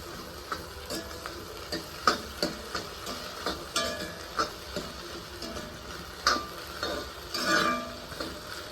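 Okra frying in a pan with onion and garlic, a soft sizzle underneath repeated light taps and scrapes of a spatula stirring, close by and moderately quiet.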